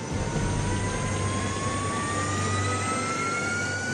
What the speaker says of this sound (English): A menacing bat-like jet fighter bomber, partially made of wood.